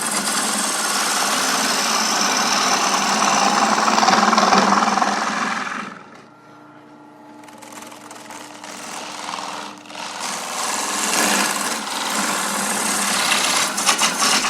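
A wood lathe turning a bowl while a gouge cuts, giving a loud, steady grinding and chattering roar that drops away briefly near the middle and then returns at full strength.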